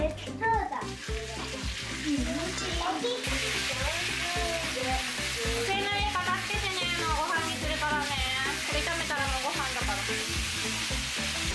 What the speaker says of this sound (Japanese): ニンニクを先に炒めて油に香りをつけてから肉を加えます。